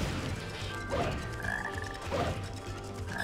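Frog croaking in Sonic Heroes: repeated low croaks, roughly two, over a dense, loud bed of game music and level noise.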